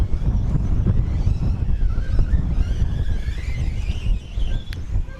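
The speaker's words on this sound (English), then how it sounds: "If it sounds very windy out there," Strong gusts of wind buffet the microphone at an outdoor 1/10th-scale 2WD off-road RC car race track, a loud continuous low roar with fluctuating intensity throughout.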